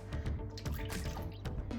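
Water pours into brownie mix in a bowl, a short close splashing and gurgling stream with irregular drips.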